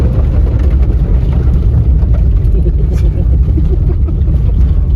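An old 4WD engine driving through Wyoming desert sand, a loud, steady low rumble and drone that fills the whole stretch without a break, heard from close inside the vehicle.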